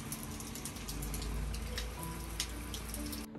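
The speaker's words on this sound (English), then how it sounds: "Heavy rain." Heavy rain falls outside a hotel in Painswick in the Cotswolds on a winter day, a steady hiss of rain with scattered drips and splashes, fairly faint, with no voices.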